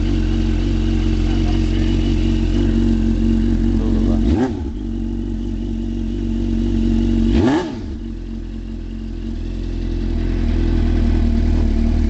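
A Suzuki GSX-R600 with a shortened 2005 factory exhaust runs steadily at a loud, close idle, with two brief throttle blips that rise and fall, each followed by a slight dip in level.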